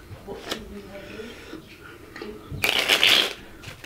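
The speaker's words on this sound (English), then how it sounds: "Give it a quick shuffle." A brief papery swish of cards, then a louder, longer riffle of a deck being shuffled close by, with soft background noise.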